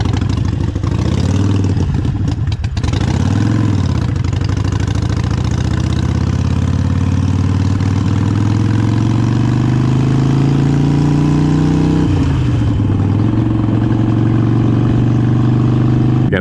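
A Harley-Davidson Sportster Iron 883 motorcycle engine idles steadily and loudly up close, with a couple of brief throttle blips near the start and another toward the end.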